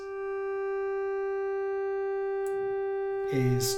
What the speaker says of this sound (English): to modulate the brightness of the oscillator